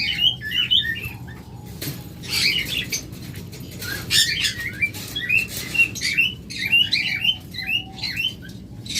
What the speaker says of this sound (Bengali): আমাদের কাছে সকল মিউটেশনের লাভবাট রয়েছে